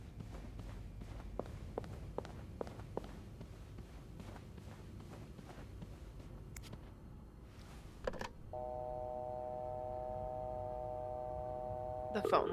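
Telephone dialing in a horror video game with the lines down: a run of short keypad beeps, then a steady multi-tone line signal that holds for several seconds, with footstep-like taps before it.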